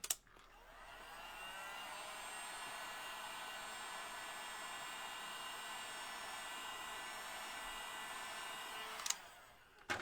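A hair dryer blows steadily for about nine seconds as it dries a handmade butterfly decoration, a loud, even whir that starts and stops abruptly, with no talking.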